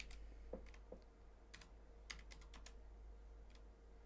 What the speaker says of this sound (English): I'm typing on a keyboard that's like 85 feet away.